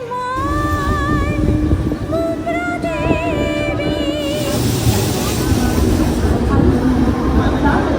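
Rumbling train noise fills Mumbra railway station, with a rising mechanical roar, tonal whines and faint voices in the background.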